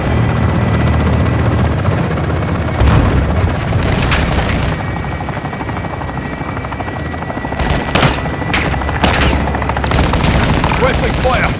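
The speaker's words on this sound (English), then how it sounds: "Hit that vehicle with the heli, son." Attack helicopter in the Modern Warfare 2 video game firing on a vehicle: a steady loud rotor and engine drone with bursts of gunfire and booms breaking through around the middle and toward the end.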